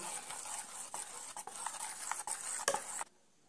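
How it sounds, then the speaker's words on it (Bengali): A spoon beating chitoi pitha batter in a bowl, a quick run of rhythmic scraping taps and wet swishes, fairly close and steady, stopping abruptly into near silence at the end. "চামচটা দিয়ে সুন্দর করে এই ব্যাটারটা ফেটে নিচ্ছি।"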